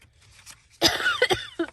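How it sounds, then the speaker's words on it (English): A woman with a tickle cough gives a faint throat noise, then a burst of several sharp, close coughs in quick succession followed by one more cough a moment later. "I have had a tickle cough"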